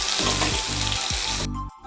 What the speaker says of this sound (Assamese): সেইখিনি তেলতে মই আদা ৰচুনৰ পেষ্টটো দি দিছোঁ